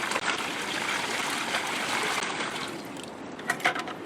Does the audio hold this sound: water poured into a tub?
yes